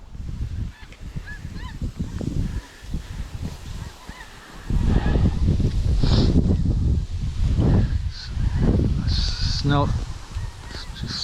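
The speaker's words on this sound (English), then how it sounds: "snow geese trading back and forth all over the place." Snow geese honk repeatedly as they trade back and forth in flight over South Dakota hunting ground, a busy overlapping chorus of calls, some close and loud, others fainter, over wind noise.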